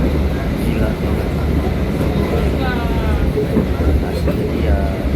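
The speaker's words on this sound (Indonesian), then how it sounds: "inilah sensasi yang bisa kita rasakan di dalam kereta api Argo Bromo Anggrek" Interior of the Argo Bromo Anggrek express passenger train running at speed between Surabaya and Jakarta: a steady, loud low rumble and rolling rail noise throughout, with faint voices in the carriage beneath it.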